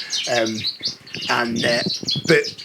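Canaries in a bird room, loud and close, singing in dense rapid trills and chirps that run continuously without a pause.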